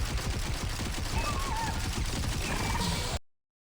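Rapid video-game gunfire and explosions in dense bursts, a chaotic barrage of shots and blasts filling the clip before cutting off abruptly.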